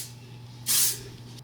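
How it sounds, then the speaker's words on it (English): Hairspray, a brushable medium-hold finishing spray, released in one short, bright hissing burst about half a second long, close by, in an otherwise quiet room with no talking. "Refined Signature Finishing Hairspray for all hair types, multitasking, brushable finish, style setting, medium hold."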